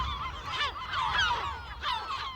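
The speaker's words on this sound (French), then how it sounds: "Des dizaines de milliers d'oiseaux de mer, guillemots, goélands ou cormorans, qui au gré des saisons viennent nicher sur l'île." Seabirds such as guillemots, gulls and cormorants at a nesting colony on Berlenga island call out in loud, honking, wavering cries that overlap and rise and fall, over a low rumble of wind or surf.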